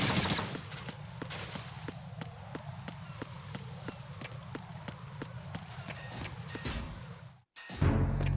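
Gunfire in Metal Gear Solid 2, shooting out cyphers: a long run of evenly spaced sharp shots, about two per second, over a steady low rumble. The shots stop abruptly, followed by a brief silence and a louder burst.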